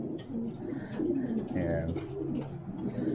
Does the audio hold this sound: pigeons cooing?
yes